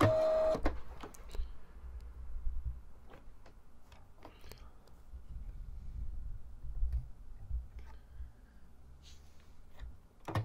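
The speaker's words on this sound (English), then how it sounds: "So turn on your printer." A Polono PL60 label printer powers on, giving a series of sharp mechanical clicks and ticks at irregular intervals over a low motor hum, close and moderately loud.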